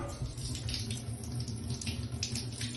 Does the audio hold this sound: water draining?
yes